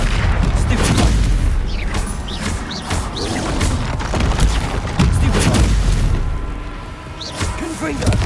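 Repeated Confringo blasting spell explosions in Hogwarts Legacy on PS5, a rapid series of loud booms and crashing impacts close by, one after another, with voices heard between the blasts.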